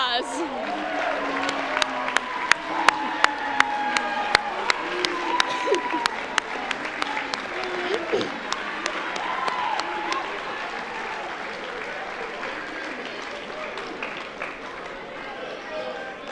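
At a school athletics award show, an audience claps for student athlete committee members in sustained, fairly distant applause with scattered sharp close claps and crowd murmur, slowly tapering off.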